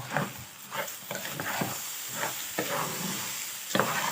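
Chopped onion sautéing in a pan for a stuffed rice and chicken wing tray bake, with a steady close sizzle broken by repeated stirring scrapes, no voices.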